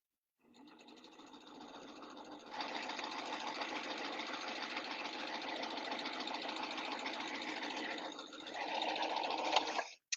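A sewing machine fitted with a plain hemmer foot stitches a 1 inch hem with a chain stitch, running as a steady, close mechanical whir for about nine seconds and speeding up briefly just before it stops.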